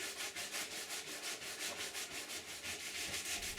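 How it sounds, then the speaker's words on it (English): A belt sander works a glass fiber and epoxy kayak coaming, making a steady, close abrasive rasp that pulses in even rhythmic strokes with no speech. "I belt sand as far as possible. And hand sand only in the very sharpest bend."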